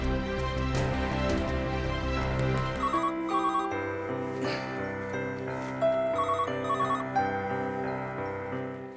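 A telephone ringtone plays with repeated electronic chiming tones over a musical background, steady and fairly loud.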